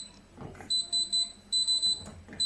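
Control panel of an IKEA ANRATTA combi convection and microwave oven beeps as a timer is set, with a run of short, sharp, high electronic beeps in quick bursts and brief pauses, close by.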